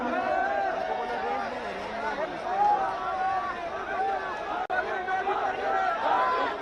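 A large, dense crowd packs a stage and its surroundings at a public hunger-strike event in Maharashtra, a loud, continuous babble of many voices close by and unbroken apart from one split-second dropout.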